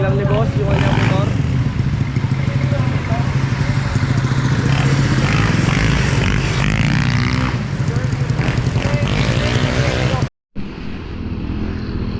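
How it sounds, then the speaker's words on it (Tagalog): A Honda Click 150i motorcycle engine, superstock-tuned, idles loudly up close, then revs up and down in a few surges before cutting off abruptly near the end. "Testing lang ni boss yung kanyang motor."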